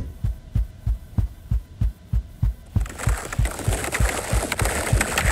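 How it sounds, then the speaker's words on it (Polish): A steady, thumping heartbeat from a horror video game pulses in a regular rhythm throughout. A hissing, noisy ambience swells in behind it halfway through. "O, jak mi serce bije po prostu."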